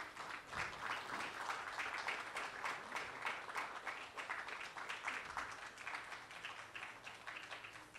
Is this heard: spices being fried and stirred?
no